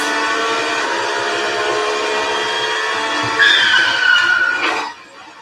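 A steady, loud car engine drone from a Unity racing game holds a constant pitch, then a brief screeching squeal rises over it before the sound cuts away near the end.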